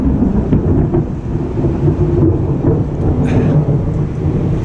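A long, low rumble of thunder rolls loud and continuous during a storm in Houston, with heavy rain and wind noise underneath.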